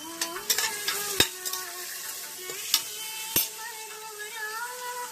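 Spoon stirring Kodo millet rice in a hot oiled pan with cumin, fennel, cinnamon, cloves, cardamom, shallots, ginger, garlic and green chili: close scraping and occasional sharp clinks against the pan over a steady sizzle, with no talking.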